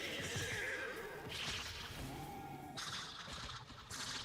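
A horse whinnies loudly in the video game Destiny 2 during the Dares of Eternity event, a long shrill neigh with wavering pitch followed by a second burst, heard alone over a steady game background.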